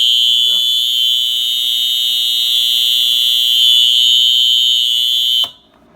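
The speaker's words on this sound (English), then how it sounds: "That'll set the alarm off again." A house fire alarm sounds during a test, a loud, steady, piercing electronic tone that holds for about five seconds and then cuts off abruptly, with faint voices beneath it.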